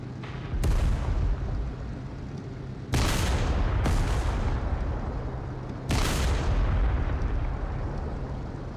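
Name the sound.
Tiger I tank gun firing at Panther, video game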